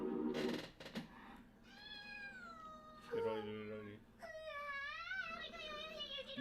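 A cat meows several times in a row, rising and falling calls that sound close and fairly loud, with a short strained, caterwauling edge, while background voices and ambient noise continue faintly underneath.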